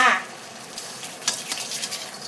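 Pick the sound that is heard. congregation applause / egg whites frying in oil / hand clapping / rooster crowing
egg whites frying in oil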